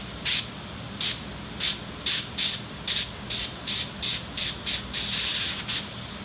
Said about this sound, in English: My little airbrush here all set up.